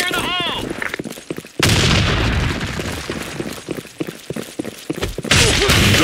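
Grenade blasts in the online shooter Blackshot land as loud, heavy booms with gunfire and game effects, one erupting abruptly after a brief electronic chirp and another near the end.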